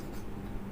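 A short, quiet burst of pen strokes on paper over low room noise, continuous and close, with nobody talking.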